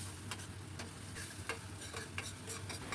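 Spice masala frying in a pan for a stuffed pointed gourd curry, with a steady low sizzle and intermittent scraping stirs, close and fairly soft.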